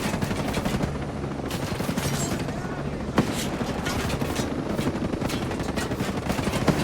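Sustained automatic gunfire in Tom Clancy's Ghost Recon Breakpoint, a loud, dense stream of rapid shots with occasional sharper cracks, running continuously from start to finish amid battle noise.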